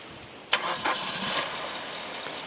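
A Maruti XL6 engine cranks with a sharp starter burst, catches, and settles into a steady, smooth idle, heard close and alone.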